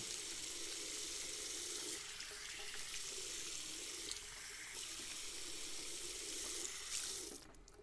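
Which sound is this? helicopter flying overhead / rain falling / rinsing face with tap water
rinsing face with tap water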